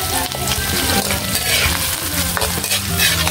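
Onion and ginger sizzle loudly in a hot pan while a spatula stirs them, making continuous frying crackle with rapid scraping and clinking strokes, close and dense.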